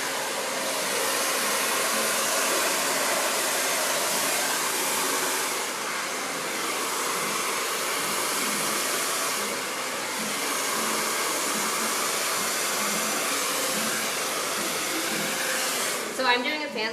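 Hair dryer blow-drying hair during a styling session, a loud steady whooshing drone held close for most of the time, dipping slightly at moments as it is moved, and ending with brief handling noise.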